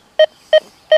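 A Deus 2 metal detector sounds over a gold ring with a foil mask and a notched program. It gives three short, loud, identical tonal beeps evenly spaced about a third of a second apart, alone with no talking.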